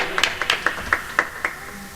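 An audience at a studio celebration claps in a loose, fairly steady rhythm, with sharp individual hand claps sounding roughly every quarter second, sparse and moderately close rather than a dense ovation.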